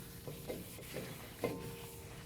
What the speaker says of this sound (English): Give it a wipe with a clean rag.